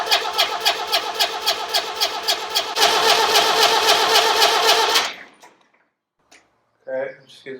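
An International Harvester B276 diesel tractor cranks on the starter with a steady rhythmic chugging that rises to a louder roar for a few seconds, then cuts off, followed by brief faint knocks and a short voice.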